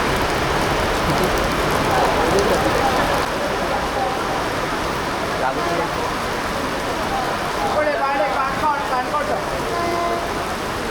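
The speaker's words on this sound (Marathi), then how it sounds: "पाऊस खूप आहे" Steady heavy rain hisses throughout in Canacona, South Goa, near a bus, with a dense wash of drops and a busy, noisy background that may include distant voices.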